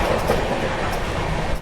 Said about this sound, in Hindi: अपनी ये पूर्वा एक्सप्रेस झारखंड का हजारीबाग रोड स्टेशन स्किप मार रही है।